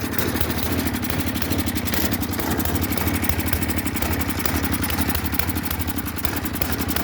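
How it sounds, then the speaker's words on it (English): A pull-start engine idling on choke in winter, a steady, close, rapidly pulsing mechanical chug that runs evenly without pause. "I let it run on choke for a bit till that warm up."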